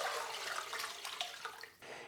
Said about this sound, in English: I've got a little strainer here and I'll just pour it in there